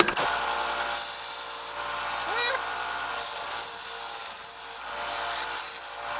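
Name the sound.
sanding a titanium fishing lure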